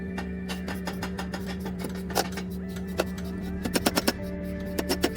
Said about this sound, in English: Controlled hammer strikes.